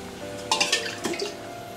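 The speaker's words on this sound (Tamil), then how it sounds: "2 டம்ளர் தண்ணி ஊற்றிக்கினேன்" Water is poured from a tumbler into a pot of curry after chilies and chili powder have been sautéed in oil, producing a short burst of splashing and trickling close by.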